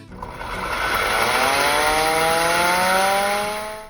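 A century-old fire siren winds up loud and close, its rising tones sweeping upward and holding in a steady mechanical wail with a rough, grinding underlayer, then starting to fade at the end.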